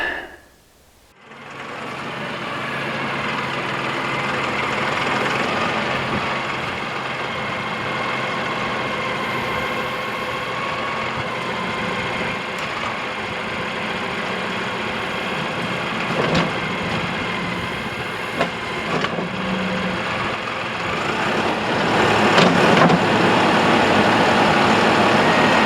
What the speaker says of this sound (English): So I decided to bring my tractor in here because I don't feel like hauling all this in by hand.